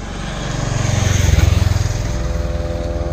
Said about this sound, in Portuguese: Olha lá, galera, a motinha do Pina vindo, ó.